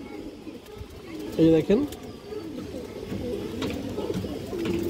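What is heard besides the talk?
male pigeon cooing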